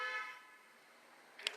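A car horn on a street gives one short honk that fades, followed by a brief sharp click, faint and distant with no talk.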